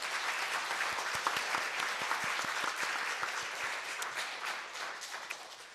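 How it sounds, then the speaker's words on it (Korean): Sustained applause from a church congregation, dense steady clapping from a crowd that continues without pause and tapers slightly toward the end. "우리 이분들께 큰 박수를 부탁드립니다"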